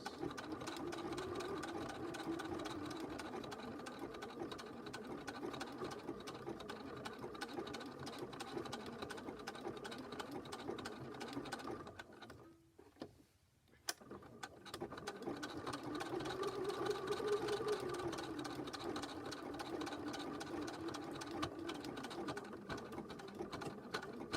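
Sewing machine stitching a hearts zipper purse, a fast steady mechanical whirr running close and continuously, cutting out briefly midway for a pause with a sharp click before resuming its rapid stitching hum.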